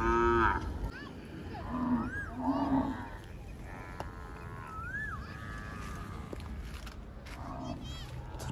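Cattle brought to graze by herders from Rajasthan moo repeatedly, with several drawn-out calls close by over a steady outdoor background, while someone talks intermittently.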